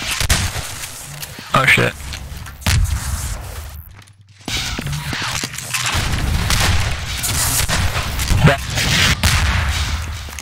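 Rocket blasts and gunfire crash through a Half-Life 2 Deathmatch firefight, loud bursts scattered across a dense stretch of combat noise with a short lull midway, while a player speaks over the action.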